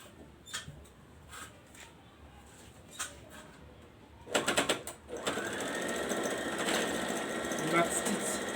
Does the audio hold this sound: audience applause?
no